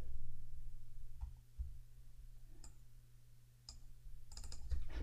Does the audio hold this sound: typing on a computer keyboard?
yes